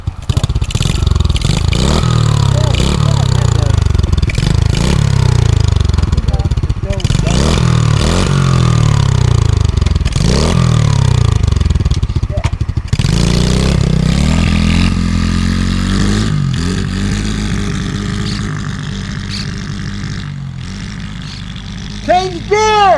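A 2015 Alan JD motorbike engine revs and labors up close, loud and rough with rising and falling pitch, clattering mechanical noise throughout, and people talking over it.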